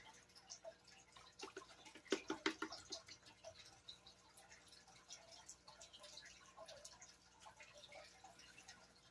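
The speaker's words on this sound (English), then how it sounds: "So we're gonna continue panning." Faint water sloshes and drips as clay paydirt from an Indiana creek is panned for gold, with soft splashes gathering into a brief burst partway through and no talking.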